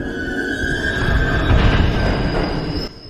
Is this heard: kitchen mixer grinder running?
no